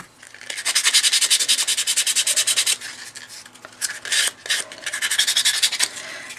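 Rhythmic hand sanding scrubs back and forth across a wooden sled crossbar ornament to distress it, with fast regular strokes, a few pauses and bursts, close and clear.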